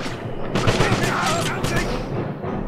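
Enemy gunfire in the 2009 Wolfenstein video game, a dense burst of rapid shots striking a shield, loud and close, continuing for a few seconds.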